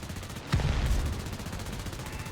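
Machine guns of an I-16 Type 10 fighter in War Thunder, heard as a loud rattling burst that starts abruptly, fades into steady engine drone and runs for about half a second.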